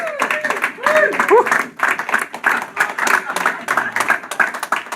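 Audience at a fundraiser debate keeps applauding, a thick wash of clapping that runs throughout, with a few voices and shouts mixed in underneath.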